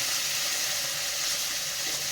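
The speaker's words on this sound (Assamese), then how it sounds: "একেলগে মাছটো ভাজিব, বেঙেনাটো ভজা হৈ যাব" Fish and eggplant fry together in a pan of hot oil; the fish is being cooked with jute leaves. A steady, close, fairly loud sizzle hisses on without a break, and no one speaks.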